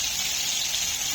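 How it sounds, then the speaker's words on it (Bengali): Fish frying in a pan for bata macher jhal gives a steady, close sizzle, a bright continuous hiss with no pauses. "মাছ ভাজাটা হচ্ছে।"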